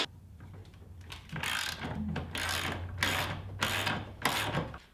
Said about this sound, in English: It is a 16mm socket and wrench you'll need to perform this job.